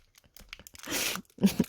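Thin plastic wrapping crinkles and crunches in short bursts, then a longer rustle and two sharper crackles, as a small toy camera still in its bag is fitted onto a Sanrio Pochacco figure. The handling is close and fairly quiet.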